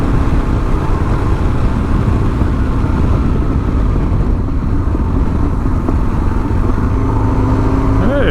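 A Suzuki DR 650 motorcycle being ridden, its engine drone steady and loud under heavy wind rush, continuous throughout with no clear gear changes.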